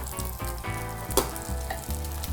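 Lion's mane mushroom steaks fry in oil in a pan with a close, steady sizzle and crackle, broken by a few small pops and stirring sounds, with no voices.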